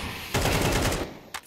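Counter-Strike gunfire during a competitive ESL Challenger match on the map Ancient: a rapid automatic burst of loud, close shots lasting under a second, then a short single report, with no talk over it.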